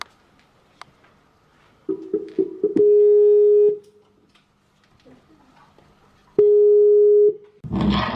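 Telephone ringback tone heard while a call is placed: two long steady tones, each about a second, separated by silence, loud and clean, with brief clicks and handling noise before, and a burst of noise at the end.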